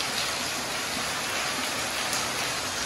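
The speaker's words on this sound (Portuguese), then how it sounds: "Então, está chovendo aqui, como vocês podem ver" Steady rain falls outdoors during a rainy day, a dense continuous hiss with no talk, evenly loud throughout.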